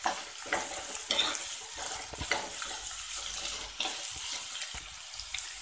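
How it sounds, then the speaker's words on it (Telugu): Onions frying in a pan for a broad bean and tomato curry, a steady sizzle with stirring scrapes and occasional sharper clinks, fairly close and continuous without any talking. "ఆనియన్స్ వేద్దాం. ఇది కొంచెం ఫ్రై అయ్యాక"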